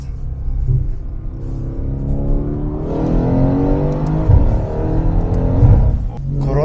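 Mercedes C63s with Brabus package and IPE exhaust revs up, a deep close rumble climbing in pitch and loudness, with a couple of sharp pops near the end.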